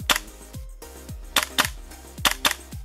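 An airsoft gas blowback gun fires a handful of sharp, close snapping shots with a clattering metallic cycle after each, spaced irregularly over a steady low background hum.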